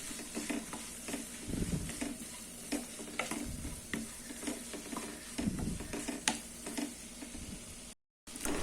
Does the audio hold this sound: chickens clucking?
no